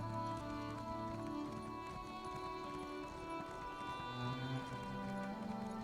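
A horse ridden through Stonefalls in Elder Scrolls Online clip-clops at a steady gait, faint hoofbeats running under a continuous bed of ambient music.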